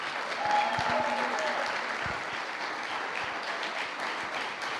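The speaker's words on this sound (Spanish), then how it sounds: "dale un gran aplauso al Señor" A church congregation gives sustained applause, a dense, even roar of clapping from many hands that holds steady throughout, with a few sharper claps and faint voices mixed in.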